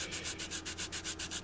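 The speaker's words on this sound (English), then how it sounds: "What we're doing is we're sanding down the high spots." Rhythmic back-and-forth sanding strokes on a small scale model car body, close and steady, about eight quick rubs with no talking.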